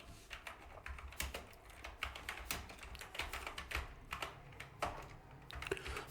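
Fingers type on a computer keyboard in quick, uneven bursts of soft clicks and taps, close but quiet, with brief pauses between runs of keystrokes and no talk.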